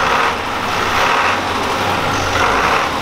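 A preserved FIAT 672 N emergency-service truck with its heavy engine running, a loud, steady diesel rumble that fills the whole stretch with little change, heard close up and without talk.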